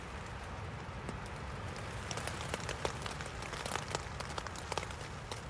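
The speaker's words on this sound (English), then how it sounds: "So peaceful though with that rain." Steady rain patters on the fabric of a hot tent during a wet, windy camping trip, a dense continuous hiss with scattered sharper drops tapping close by, no voices.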